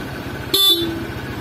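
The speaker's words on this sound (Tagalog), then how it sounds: "Busina." A single short honk of a car horn sounds close by, a brief bright blare lasting about a quarter second over a steady idling engine hum.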